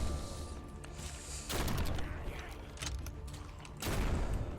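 Gunfire from a weapon in the video game Bloodshed, slow heavy shots with wide spread, bursts of blasts and crashes close and loud over constant game noise.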